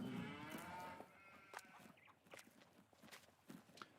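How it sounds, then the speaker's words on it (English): Cattle in the Farming Simulator game on the Hof Bergmann map give a low moo that fades over the first second. Faint footstep-like clops and scattered soft noises follow at low level. "And we have our lady cows."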